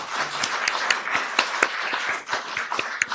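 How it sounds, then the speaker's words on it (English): An audience at a mayoral debate claps for two candidates. The scattered, moderately loud hand claps form a loose ripple of applause, with no talking over it. "Could we get a round of applause for these two candidates"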